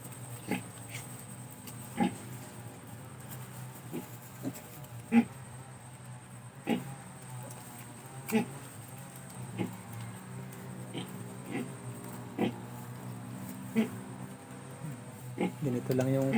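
Newborn piglets and their mother in a simple pen give soft, repeated grunts and squeals, faint and close, while someone talks over them.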